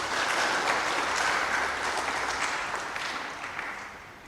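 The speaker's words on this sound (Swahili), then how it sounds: "Tumpigie baba makofi pia." A church congregation in Tanzania claps for a priest at his farewell: loud, dense, sustained applause from many hands that tapers slightly toward the end, with no speech over it.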